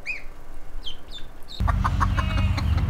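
Baby chicks peep with a string of high, rising chirps close by, then a louder, denser bout of clucking and scratching from a flock of farm fowl takes over.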